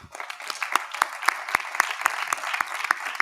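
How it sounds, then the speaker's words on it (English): Applause at a university commencement ceremony, heard as rhythmic, evenly spaced claps over a soft wash of crowd clapping, moderately faint and steady for a few seconds. "Please join me in applauding them one last time."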